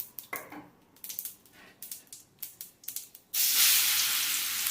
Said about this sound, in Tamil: இப்போ வந்து இந்த மாங்காவை வந்து நம்ம சைடில் வதக்கிடலாம்.